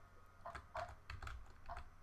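Computer keyboard arrow keys are tapped in a handful of quick, soft, close-up clicks, quiet and alone with no talking.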